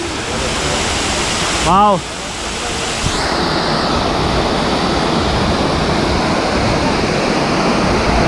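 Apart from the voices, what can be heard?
small waterfalls in Munnar, Kerala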